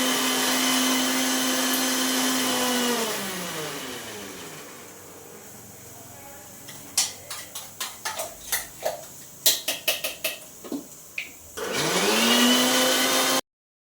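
A mixer grinder loudly whirs through a paste of tomato, onion, garlic and cumin, spins down, goes quiet apart from a string of sharp clinks and taps, then starts whirring again.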